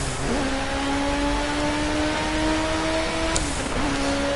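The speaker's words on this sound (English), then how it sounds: "Now in some of these old turbo cars you will hear me blipping the throttle quite a lot" Old turbocharged race car engine in the Project Cars video game, a steady droning note that holds, dips briefly as the throttle is blipped, then climbs again, close and loud.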